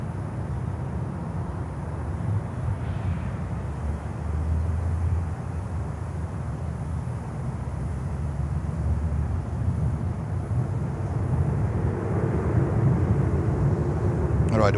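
An all-white former Aloha Airlines cargo plane rumbles steadily at Miami airport, a broad low engine roar that swells slightly toward the end, with a voice talking over it.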